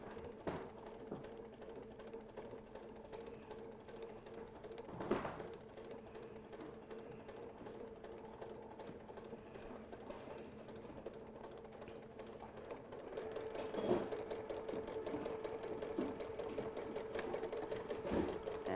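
Sewing machine stitching fabric for a stuffed nativity figure, a steady quiet mechanical whir running continuously with a couple of brief clunks, picking up slightly louder toward the end.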